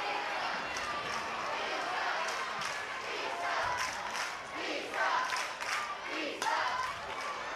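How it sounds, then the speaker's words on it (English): Softball crowd at a Florida vs Florida State college game chanting a batter's name, a steady roar of many voices with rhythmic surges, loud and continuous, with scattered shouts and claps mixed in. "The crowd breaks into a chant of Isa"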